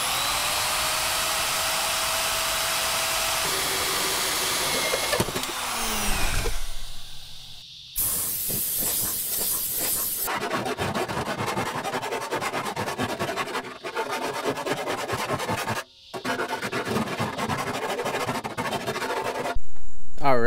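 Power drill with a 3.5-inch hole saw cutting an opening for intercooler piping on a Nissan S14 build, a loud grinding whine that stops and restarts, with scraping and handling noises between cuts.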